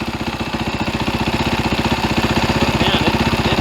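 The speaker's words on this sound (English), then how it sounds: "Man, it sounds a lot nicer. Engine's nice and quiet." A 2023 SSR SR250 Chinese dirt bike engine fitted with a Lectron carburetor idles with a steady, rapid, even thumping pulse. It is close and fairly loud, it runs alone without talk, and the idle is set slightly high.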